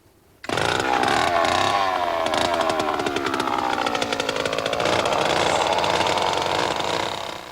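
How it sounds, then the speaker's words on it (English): A portable cylindrical core drill bores into rock in Iceland to extract a core sample, starting abruptly with a loud, rough, buzzing two-stroke engine whine that holds steady close by, with some pitch wavering as it cuts. "eo Christiansen of the University of Iceland is using a cylindrical drill to extract a core sample for analysis in the laboratory"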